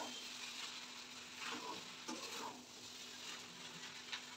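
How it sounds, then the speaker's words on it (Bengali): A spoon stirs pasta in a pan, giving soft, faint scraping and light patter strokes over a low steady background hum, with occasional small clicks. "এইভাবে নেড়ে নেড়ে খুব ভালোভাবে এখন নাড়তে থাকতে হবে"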